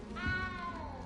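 A single drawn-out cat meow in the Hogwarts Legacy video game, heard inside the castle, rising then tapering over about a second against a low, steady background rumble.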